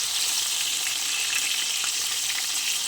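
Eggplant pieces fry in hot oil with a dense, even hiss and crackle, loud and close and unbroken throughout.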